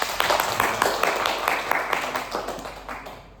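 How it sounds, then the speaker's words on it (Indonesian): A classroom of students claps briefly for a classmate's correct answer in a data-spread maths lesson, a short burst of uneven, close handclaps that trails off within a few seconds. "Tepuk tangan untuk Angel."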